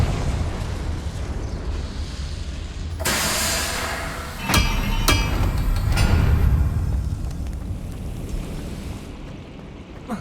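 A fiery Confringo spell blast in Hogwarts Legacy, a loud burst of explosion with rumbling, crackling debris and sharp impacts that swell then tail off into a lingering low roar.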